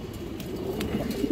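Kajla Gear pigeons, kept for sale, coo softly and continuously nearby, with a few sharper calls cutting through the low warbling.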